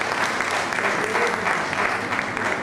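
An audience at a ceremony applauds a professor, with a continuous, loud and dense round of clapping from many hands and a faint crowd murmur beneath it.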